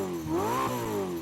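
Ferrari SF90 engine revving up and dropping back in a single smooth rise and fall, loud and close, with strong rising and falling harmonics and no talk.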